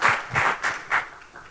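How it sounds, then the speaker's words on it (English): Short, uneven applause at a corporate AI governance event in the Dusit Thani hotel, arriving in four quick swells of clapping from a modest audience and fading within about a second and a half. "Can I have a big round of applause for our moderators for the evening?"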